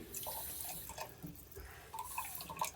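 Cold tap water runs into a kitchen sink for a box cake, close but soft, with a steady splashing stream and small irregular drips, and no talk.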